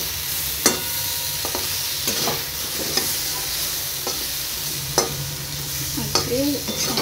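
Egg curry masala being stirred and fried in a pan, with a steady close sizzle broken by a few sharp scraping knocks of the spoon and a short squeak near the end.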